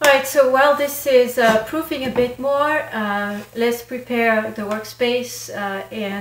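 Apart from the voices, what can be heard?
No everyday noises stand out.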